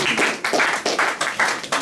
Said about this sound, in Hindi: ताली बजा करके उनको।